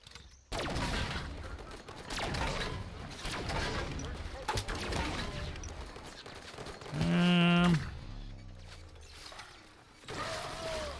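Gunfire from Halo 5 comes in quick mechanical bursts and clattering shots, mixed with creaks and sharp impacts, with a loud tonal electronic whine midway and another near the end.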